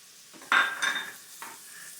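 Sliced onions with a pinch of salt sizzle in a pan for beef varattiyathu, with a quick stirring scrape and a short burst of frying hiss, close and clear, and no talking.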